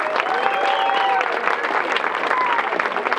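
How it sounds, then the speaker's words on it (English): Audience applause at a musicians museum induction ceremony, a dense, steady burst of clapping from a sizeable crowd, loud and close, running evenly for a few seconds. "Let's give them a big round of applause."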